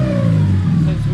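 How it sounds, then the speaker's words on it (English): A Ford EF Falcon hatch with advanced cam timing idles steadily at around 1,000 rpm, a loud, close, even engine rumble with a low throb and no talking over it. "She's idling pretty good."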